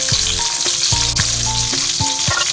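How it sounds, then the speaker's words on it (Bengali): Capsicum pieces frying lightly in a little mustard oil in a wok, a steady close sizzle with periodic stirring knocks and scrapes throughout, no voices. "এ পর্যায়ে দিয়ে দেব ক্যাপসিকাম, এগুলো আমি হালকা ভেজে নেব।"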